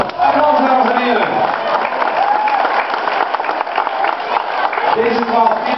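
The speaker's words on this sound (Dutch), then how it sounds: "Applaus, dames en heren." A crowd claps and cheers at the opening of the Veeneslagen tunnel, loud continuous applause with voices mixed in.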